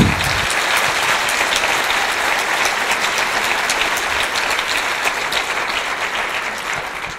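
A room full of people breaks into strong, sustained applause during an economics talk, dense even clapping that stays loud for several seconds before tapering slightly at the end.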